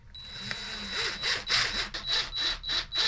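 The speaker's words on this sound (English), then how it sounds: "I'm going to put these in just with a little drill driver, just to make sure they go in really solid" A small drill driver sets screws into a Gibson Les Paul Special Double Cutaway guitar, a series of short whirring bursts repeating close up at a steady pace.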